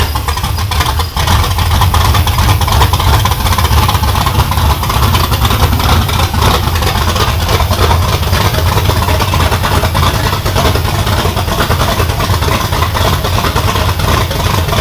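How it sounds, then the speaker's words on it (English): The new engine in a Chevrolet Nova idles loudly and close up on a cold start at its first fire-up, a rough, throbbing rumble that runs steadily throughout with slight unevenness. "I think we need to bring that idle up a little bit for a cold start."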